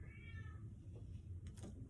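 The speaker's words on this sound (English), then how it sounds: "My cat's singing a song" A house cat meows in a drawn-out, sing-song wail near the start, followed by quieter rustling and a brief soft sound, heard close and alone.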